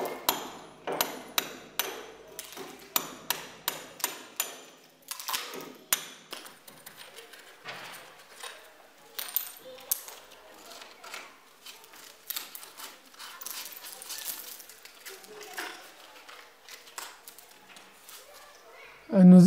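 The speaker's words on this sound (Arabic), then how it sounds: "والآن سنقوم بحفر الأجور" Hammer and chisel cutting out bricks and concrete along a cracked wall, sharp rhythmic metallic blows in quick runs, then irregular chipping strikes, close and loud.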